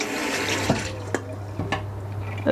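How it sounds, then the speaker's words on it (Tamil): Water pours over red rice flakes in a bowl, a steady rushing splash with a few sharper sloshes, close and fairly loud with no voices. "இன்னும் கொஞ்சம் தண்ணியை விட்டு ஊற்றுவோம்."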